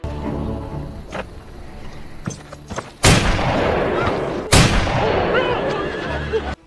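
Two sharp, loud gunshots a second and a half apart ring out in a film scene where a gunman turns on a villager, each blast followed by a lingering rumble over a faint background.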